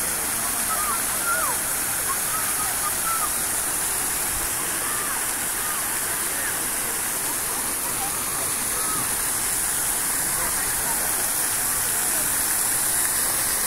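Water splashes continuously in an illuminated fountain display, a steady rushing hiss heard at moderate distance with faint background voices.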